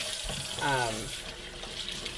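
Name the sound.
cold water running from a tap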